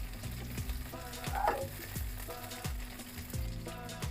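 Pieces of chhana (paneer) fry in oil in a pan with a steady, close sizzle, partly masked by tuneful background music throughout.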